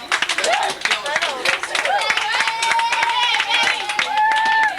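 Clapping from a group of people at a 1989 team banquet, scattered hand claps running under steady crowd chatter and nearby talking voices throughout.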